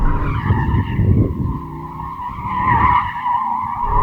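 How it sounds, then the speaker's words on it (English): Tyres on an Aston Martin DBX 707 or Porsche Cayenne Turbo GT squeal loudly on tarmac while understeering, a sustained wavering tonal screech over a rumbling engine, close and continuous for the full length. "I can just feel the tyres just chewing away at the tarmac"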